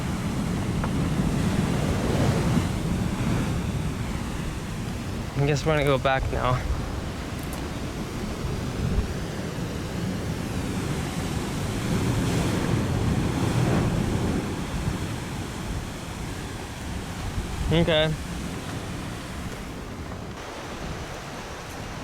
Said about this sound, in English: Really strong waves.